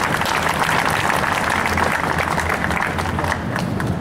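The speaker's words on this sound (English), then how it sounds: "Please give a round of applause to Mr." A rally crowd at a Hazara protest in Quetta applauds, a dense, steady wash of clapping that stays loud and even throughout with no break.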